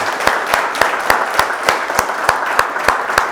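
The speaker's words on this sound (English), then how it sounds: "clap it up, man. Y'all, one more time." A crowd applauds steadily, claps thick and overlapping with sharper accents every fraction of a second, moderately loud and close throughout.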